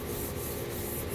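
Steady hand sanding toward a mirror finish, a close, continuous rubbing hiss with rhythmic back-and-forth strokes and no talking.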